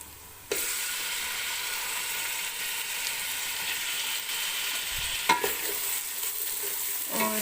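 Washed chicken hits hot oil with garlic, ginger and masala. A sudden burst of sizzling starts after a brief quiet, then holds as a steady, close frying hiss with light stirring clatter.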